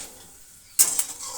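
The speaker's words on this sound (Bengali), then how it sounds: "তো গোটা জিরে বলে সরি গোটা গরম মশলা ফোড়ন দিয়ে দিলাম" Whole garam masala drops into hot oil for tempering, and a sudden bright sizzle bursts out after a quiet moment, crackling loudly and close, then settling into a steady fizz.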